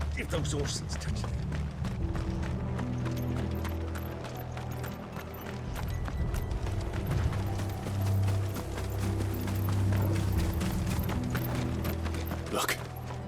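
Horse hooves clatter in a steady running rhythm alongside mechanical clanks in Final Fantasy XVI, with voices talking over the galloping throughout.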